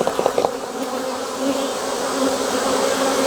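Honey bees drone steadily at an open hive, a dense close buzz that swells slightly as it continues, with a few light knocks at the start and no talking.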